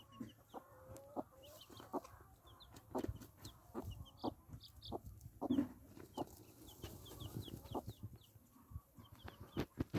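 A free-range hen clucks softly and repeatedly while teaching her chicks to scratch, the tiny chicks peeping in high, scattered chirps around her, all fairly quiet and close.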